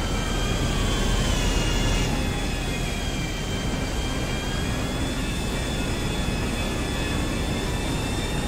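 An airplane engine in a video game gives a loud, continuous roar with a high whine, steady and close throughout, with no breaks.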